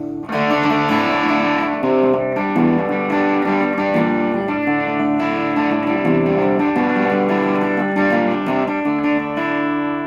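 Heavily distorted electric guitar through a Big Muff-style fuzz pedal plays sustained, buzzy chords continuously and loudly, with a thick fuzzy tone throughout.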